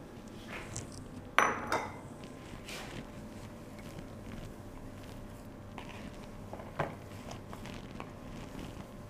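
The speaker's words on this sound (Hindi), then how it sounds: "दाल और चिकन दोनों ऐड कर देंगे और इनको अच्छी तरह से मिक्स कर लेते हैं।" Dal and chicken stirred into a potato cutlet mixture in a metal bowl, with a couple of sharp utensil clinks near the start and soft scraping and mixing throughout, close and fairly quiet.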